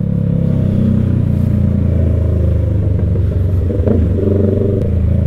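Continuous rumble of motorcycle and car engines in slow traffic close by, near a school in Pililla, Rizal, a dense idling and revving drone with no voices.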